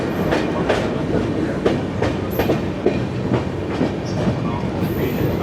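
Aboard the 12675 Kovai Express in an AC chair car, just after leaving Salem Junction, wheels beat out a loud, continuous rhythmic clatter over the rail joints.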